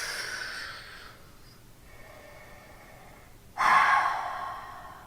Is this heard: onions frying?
no